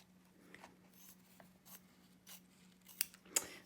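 Scissors snip through tape on a double computer zip bag project, giving two sharp, close cuts near the end over a faint steady hum and soft handling rustles.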